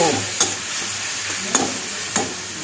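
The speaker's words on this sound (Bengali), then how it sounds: "দিয়ে দিচ্ছি অল্প একটু জল মশলাটা পুড়ে যাচ্ছে একটু নাড়াচাড়া করব" Spices fry in a pan with a little added water, a steady sizzle broken by three sharp scrapes of a spoon stirring against the pan, close and clear with no talk.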